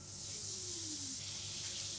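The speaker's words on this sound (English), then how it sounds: "So we've got that really hot pan, so you expect to hear a nice sizzle when you put this in." An oiled rib-eye steak sizzles in a very hot pan, giving a loud, continuous, bright hiss that holds steady for two seconds without any voices.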